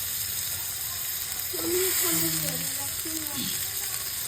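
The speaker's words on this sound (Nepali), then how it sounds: "मटरको कोसालाई पनि एकछिन हामीले फ्राई गर्छौँ।" Pea pods frying in oil, a steady hissing sizzle at moderate level, with a brief voice-like murmur in the middle partly over it.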